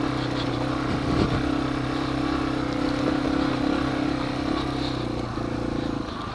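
A Yamaha TW200 motorcycle with an upgraded front tire rides a muddy trail, its engine droning steadily and close with a slight throttle rise early on, alone without talk.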